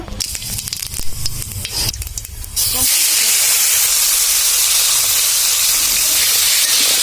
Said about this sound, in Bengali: টাকি মাছগুলো আমরা এখন কড়াইতে ছেড়ে দিব, ভেজে নিব।